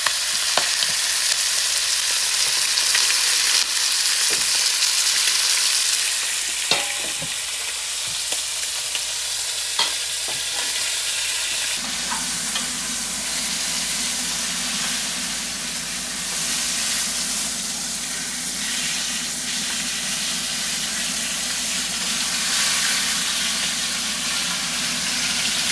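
Chicken fries and is stirred in a pot, making loud, close, continuous sizzling and hissing with scattered scraping and clinks from stirring. The sizzle shifts and deepens partway through.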